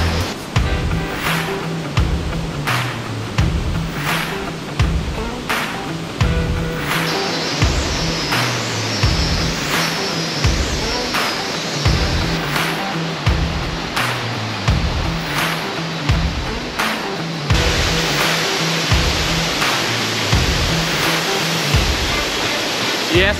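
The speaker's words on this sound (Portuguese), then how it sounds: "E essa é a Cachoeira de Buenos Aires." Cachoeira de Buenos Aires waterfall in Guarapari, Brazil, gives a constant, dense rush of falling water, loud and unbroken, with a faint repeating low pulse beneath it.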